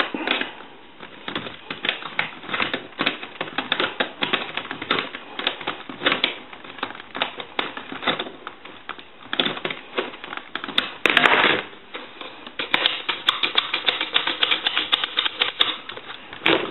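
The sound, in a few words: tightening a part during telephone repair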